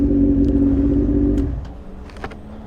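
Custom Honda Fireblade motorcycle exhaust gives a deep, loud rumble for about a second and a half, then cuts off, leaving faint rustles and small clicks.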